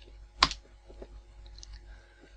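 A single mouse click on an event entry in a code editor, a short sharp tick near the start followed by faint low room hum and a few soft clicks.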